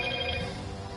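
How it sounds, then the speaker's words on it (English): A phone's notification chime signals the start of an Elder Scrolls Online livestream, sounding as a steady, bright tonal ring with sustained harmonics that plays alone for about a second. "That's my phone letting me know that the stream started."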